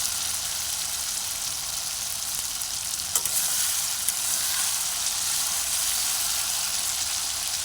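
Steady, close sizzling of spice paste frying in hot oil for chicken curry, a constant hissing crackle with a few brief clinks of stirring.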